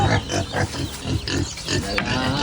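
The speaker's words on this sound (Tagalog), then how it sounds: "may mga alagang baboy na nakaaba" Pigs grunting and squealing up close, a busy cluster of snorts and short squeals with a faint voice in the background.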